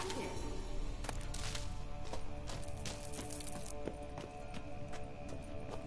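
Horse hooves clip-clop in a steady trotting rhythm in a video game, fairly close, with occasional voices and ambient game sounds underneath.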